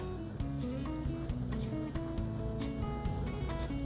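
Pencil rubbing softly across paper in a steady, continuous scratchy texture while lips are shaded in on a sketch of young Elsa, close and quiet, with no talking.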